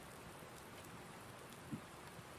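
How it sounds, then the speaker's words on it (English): Steady, even rain falls in Farming Simulator 19, a soft broadband hiss of drops with one brief tap near the end and no talking. "it's still raining"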